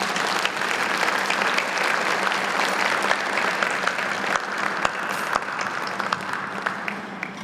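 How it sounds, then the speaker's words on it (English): Applause at a 175th anniversary gala in Pine Bluff, a large crowd clapping loudly and steadily for the whole stretch, with a few sharper individual claps standing out. "please give them a large round of applause"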